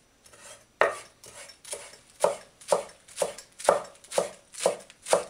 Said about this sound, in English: so I'm going to chop this mint